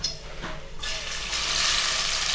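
About two bowls of oil heat in a pan for crab curry. It goes from a quiet start into a sudden, steady, close sizzle that grows denser toward the end.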